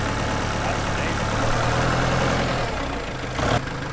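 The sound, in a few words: Kubota compact tractor engine running in slowest gear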